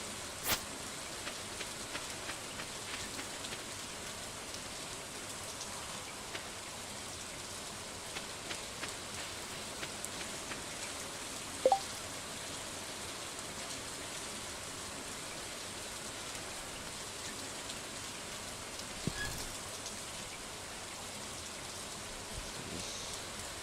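Quiet steady rain in the farming game Stardew Valley, a faint even patter and hiss with a few isolated soft ticks and no voices.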